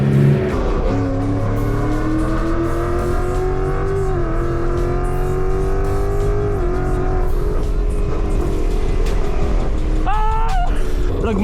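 A loud Ford Mustang GT V8 rumbles through city traffic in Miami, its engine droning steadily with rising revs near the end.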